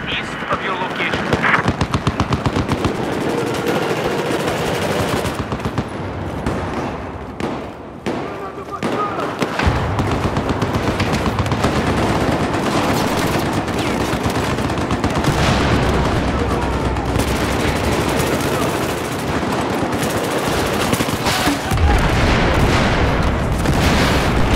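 Sustained automatic gunfire and explosions from a Battlefield 4 battle fill the scene, dense and loud throughout with repeated bursts and booms, while a voice speaks over the combat.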